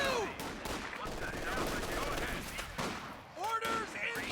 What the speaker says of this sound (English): MG-42!